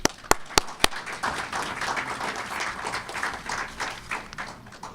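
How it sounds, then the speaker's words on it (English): At an insurance company launch ceremony in St. Kitts and Nevis, three sharp close claps ring out first, then a modest audience settles into scattered, uneven applause that fades somewhat toward the end. "Please, and a round of applause for them"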